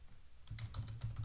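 Keys clatter on a computer keyboard while email server settings are entered, a quick, steady run of close, light clicks starting after a brief pause and continuing to the end.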